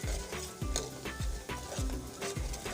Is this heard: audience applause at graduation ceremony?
no